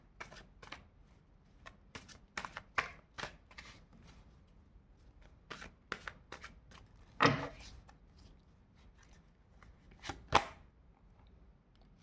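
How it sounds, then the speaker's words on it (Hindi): Tarot cards are shuffled in quick bursts of crisp riffling and flicks, scattered across a quiet room with pauses between, close and fairly soft, with no talk over them. "तो चलिए और हम कार्ड लेंगे थोड़े से"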